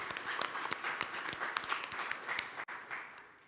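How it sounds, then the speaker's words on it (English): Brief audience clapping at an oil and gas conference, a short round of steady crowd applause that tapers off. "I think we can give them a clap"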